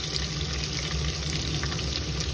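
Onion frying in ghee in a pan for chicken biryani, a steady, close sizzle that crackles evenly throughout with no talking.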